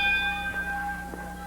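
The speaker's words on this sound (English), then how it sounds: "Bell time." A ringside bell at a classic Memphis TV wrestling match rings with a bright sustained tone, struck again a couple of times as it rings on, fairly loud over arena background noise.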